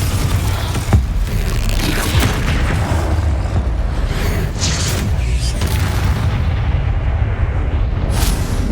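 A Confringo fire spell explodes in the video game Hogwarts Legacy, giving a loud, sustained booming rumble with bursts of blasting noise across several seconds and no clear speech.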